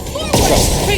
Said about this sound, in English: Target locked. Fire!